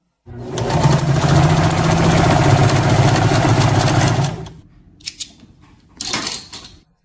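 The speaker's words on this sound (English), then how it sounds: "Now let us lower the needle down and step on the foot pedal." A domestic sewing machine with a horizontal hook is driven by its foot pedal, giving a loud, steady, rapid whirring stitch rhythm for about four seconds. It then stops, followed by a few faint clicks and a brief mechanical rustle.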